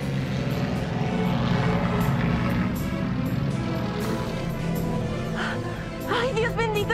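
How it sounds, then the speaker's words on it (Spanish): A small propeller plane flies over open countryside fields, its engine drone continuous and fairly loud under a full music and ambience bed, with a rising whine near the end. "¡Esa avioneta se va a caer!"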